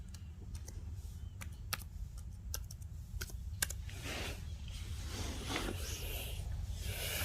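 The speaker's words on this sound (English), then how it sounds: "Now type your credentials." Keys clatter sporadically on a Dell Inspiron laptop keyboard during setup, a handful of sharp, uneven clicks over a steady low hum, fading into a softer, washy rustle toward the end.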